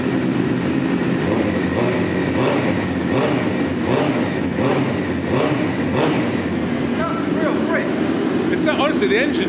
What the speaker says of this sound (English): Honestly, the engine sounds mint, doesn't it?